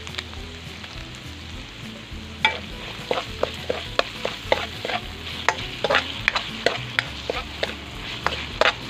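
Vegetables for pork chao fan with chorizo and oyster sauce stir-fry in a hot pan. A constant sizzle runs under repeated sharp scrapes and clacks of a spatula in a quick, irregular rhythm, up close.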